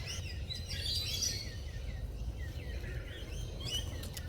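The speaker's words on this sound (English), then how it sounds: "Getting interrupted by kookaburras." Kookaburras calling near a rural stock pond, their repeated raucous, laughing calls rising and falling over a steady low outdoor rumble, fairly close and loud throughout with no talk.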